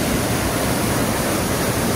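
A waterfall pours into a creek, a steady, dense rush of falling water that stays constant and fairly loud throughout, with no voices over it.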